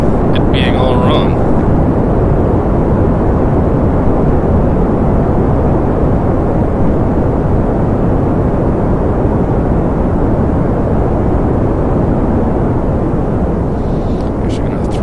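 Rocket engine roaring during ascent in Kerbal Space Program, a loud, steady broadband rumble that holds without a break from start to finish.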